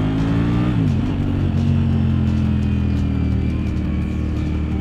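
A car switched into sport mode idles with a steady low engine drone that rises briefly in a small rev near the start, then holds a constant loud hum throughout, with no talking.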